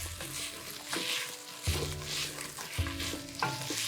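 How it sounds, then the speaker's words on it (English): Red pepper flakes are stirred into vegetables sautéing in a pot for Tuscan white bean soup, a soft sizzle under a few distinct scraping stirs, close and quiet. "I'm just gonna stir that, let those cook into the vegetables a little bit"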